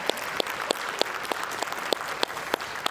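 An audience at a city State of the City address in Round Rock claps in a sparse, fairly regular beat, with a few sharp individual claps standing out over a light crowd murmur, moderately close.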